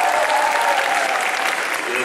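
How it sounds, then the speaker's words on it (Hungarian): Audience at a spring anime convention cosplay contest applauds a judge with steady, dense clapping that fills the whole stretch, the crowd close and fairly loud, with no voices standing out. "Nagy tapsot neki!"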